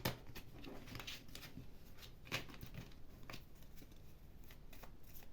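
Oracle cards shuffle for a reading in a soft, continuous riffle of papery flicks and slides, quiet and close, with occasional sharper snaps over a faint background hiss.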